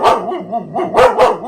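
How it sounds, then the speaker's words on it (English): A pet dog begs for attention indoors at home, giving a few close, loud barks and yips, with two sharp barks near the end. "that's my dog begging my poor daughter who's trying to do homework"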